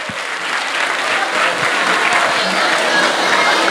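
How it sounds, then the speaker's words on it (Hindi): An audience at a Krishna Leela stage performance during the Agrasen Jayanti festival applauds a children's dance, giving loud, dense, continuous clapping that fills the whole moment. "एक बार जोरदार तालियां हो जाए।"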